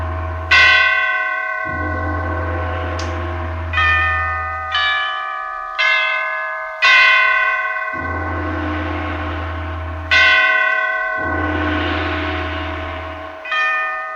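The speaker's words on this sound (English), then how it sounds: "the great bells of St. Petersburg tolled their requiem, tolled again the ascension to the throne of Paul I" Great church bells of St. Petersburg toll their requiem, heavy strikes sounding one after another at a slow, uneven pace, each loud, deep and ringing, its hum decaying before the next stroke.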